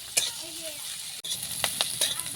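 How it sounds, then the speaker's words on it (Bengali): Chopped green chili and onion frying in hot oil in a pan, giving a gentle sizzle with several sharp scraping clicks as a spatula stirs them, moderately quiet and close. "লঙ্কা আর পেঁয়াজ কুচিটা একটু ভাজা হয়ে গিয়েছে"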